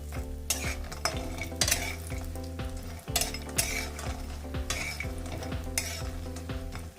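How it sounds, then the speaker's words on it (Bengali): Bori lentil dumplings fry in mustard oil in a pan, a steady loud sizzle broken by repeated sharp scrapes and clinks of a spoon stirring against the metal, with no voices. "এবার বড়িটা ভাজা ভাজা হবে আর সমস্ত তেল কিন্তু ছেড়ে আসবে।"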